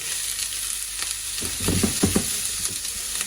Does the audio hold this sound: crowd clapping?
no